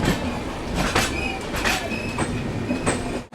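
Amrit Bharat express train running from Malda Town to Bangalore passes close by, a steady loud rumble of wheels and carriages with faint clicks and brief squeals, no voices.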